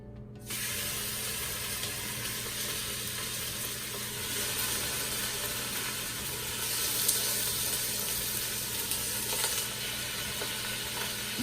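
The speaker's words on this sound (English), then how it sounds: "And let's sear that meat." Pot roast meat searing in hot olive oil in a pressure cooker pot, a loud, steady sizzle that starts abruptly and continues unbroken, swelling slightly midway.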